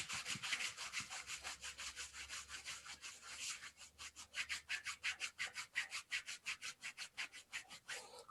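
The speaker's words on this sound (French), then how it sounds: "On assouplit la cheville en même temps. On frotte." Hands rub an ankle and foot during a Taoist self-massage, making a close, rhythmic swishing of skin on skin, fast and even at first, then slower, separated strokes.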